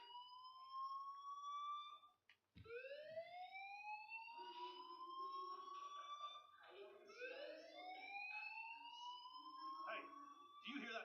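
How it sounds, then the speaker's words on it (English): Fire alarm in the video game Life Is Strange wails with repeated rising electronic sweeps, steady and prominent, briefly broken by a thump. "Hey, do you hear that fire alarm?"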